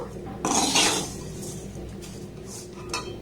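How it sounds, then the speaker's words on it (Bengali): A spoon stirs milk powder into a sweet dessert mixture in a pot, giving a short scraping burst followed by a few light metallic clinks against the vessel at close range. "এটাকে আমি আর একবার একটু ভালোভাবে নাড়াচাড়া করে নেব"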